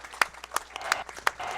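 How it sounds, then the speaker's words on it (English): A clapping sound effect plays as a handful of sharp, evenly spaced hand claps in a steady rhythm, fairly close and clear over a faint background hum. "we have applause sound effects"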